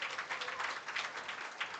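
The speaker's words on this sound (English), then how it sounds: "Another big round of applause as we say goodbye to Prof." Steady applause from a conference audience bidding farewell to a professor, a dense, even patter of many hands at moderate volume with no voices over it.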